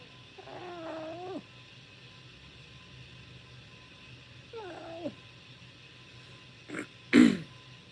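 A cat gives two drawn-out meows a few seconds apart over a quiet background, followed by a couple of short, sharper sounds near the end.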